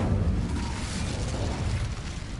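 A fiery Incendio spell is cast in Hogwarts Legacy, giving a dense, roaring whoosh of flame that holds at a steady loudness the whole way through.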